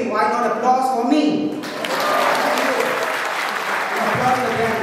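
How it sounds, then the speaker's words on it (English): Audience applause at a felicitation ceremony breaks out after a short spoken introduction, a dense, moderately loud clapping that fills the room for several seconds while a voice briefly resumes near the end. "if you agree why not applause for me"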